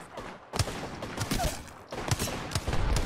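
Bursts of rapid gunshots in a team video game shooter, loud crackling volleys in two main clusters with brief gaps between, layered over game background noise.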